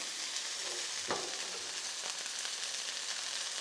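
Chicken pan-searing in hot oil gives a continuous bright, loud sizzling hiss, broken by a single brief knock early on.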